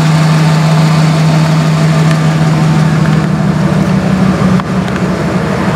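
A truck engine idles roughly on seven cylinders with a spark plug wire off, a loud close low rumble holding a steady uneven hum that dips briefly near the end.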